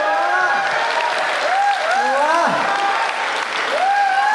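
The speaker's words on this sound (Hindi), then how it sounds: "आप सबने मन के साथ ताली बजाई" Audience applause at a Hindi comic poetry gathering, a dense, steady clapping that fills the whole stretch at close range, with a voice speaking over it throughout.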